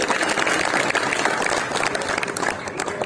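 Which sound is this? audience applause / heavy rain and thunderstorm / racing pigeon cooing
audience applause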